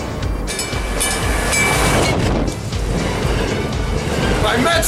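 A metro train rumbles past nearby, with a steady roar, a rush of air and a brief metallic squeal, while a voice talks over it.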